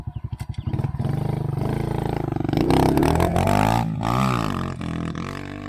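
A Kawasaki KLX110 pit bike engine starts with a few rapid pops, then idles and revs loudly up close, the throttle rising and falling in uneven bursts before settling back to a steady rumble.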